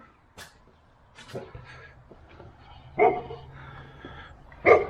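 A dog barks a few times at a moderate distance, short separate woofs spaced out over quiet outdoor background.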